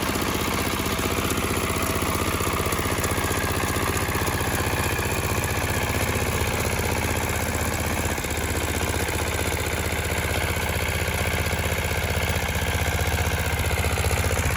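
A walk-behind tractor engine driving a rotary tiller in a field runs steadily at a constant idle-like drone throughout, loud and close, with no talk.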